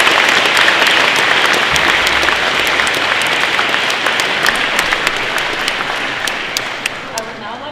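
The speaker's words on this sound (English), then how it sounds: "Please join me in giving Jade a big round of applause" A gym full of youth forum attendees breaks into loud, dense applause, steady at first and thinning toward the end as individual claps start to stand out.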